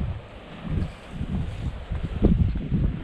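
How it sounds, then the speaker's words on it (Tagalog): Strong wind gusting outdoors by a fishpond, loud rumbling buffeting in uneven surges that swell and ease, with no voices heard. "malakas ang hangin"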